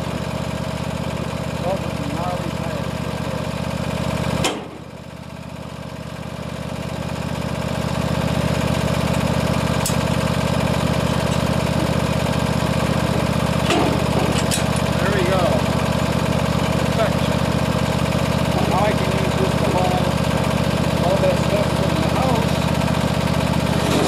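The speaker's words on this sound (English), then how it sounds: "I'll go get the tractor and bring it around." A lawn tractor engine runs at a steady idle, a constant mid-pitched drone that dips briefly then recovers and holds, with someone talking over it.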